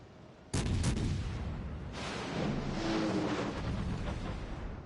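Naval ship guns fire in the video game World of Warships Legends: a sudden loud booming salvo, then a few more rumbling shots, with a heavy, rolling roar that lingers between blasts.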